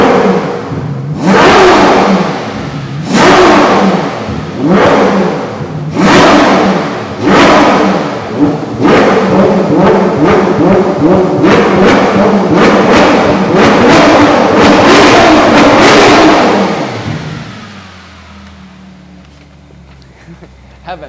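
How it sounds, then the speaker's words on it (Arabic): A Ferrari V12 engine revs hard in a series of loud, evenly spaced bursts, then a rapid run of shorter blips before settling back to a low idle, with no one talking over it. "اسمع بقى الصوت بقى من ورا، بقى صوت الفي 12 بتاع فيراري"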